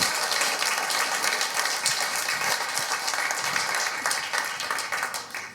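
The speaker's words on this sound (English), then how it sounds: "An applause, please, first." Conference audience applauding steadily and fairly loudly, a dense wash of clapping that holds for several seconds and begins to thin toward the end.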